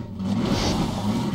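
A car engine revving and accelerating in the video game Half-Life 2: Episode Two, a steady mid-pitched drone that holds loud and close for the whole moment, with no talk over it.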